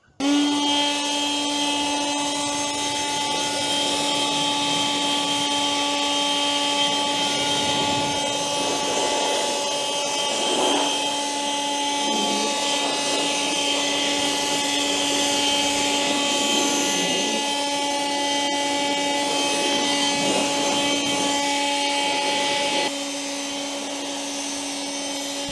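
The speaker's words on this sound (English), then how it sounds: "I've also got a Karcher blower, so I'm going to blow it off" A Karcher blower runs steadily and loudly while blowing off a helicopter outdoors, a continuous whining drone with fixed tonal hum and shifting airy rush, cutting down slightly near the end.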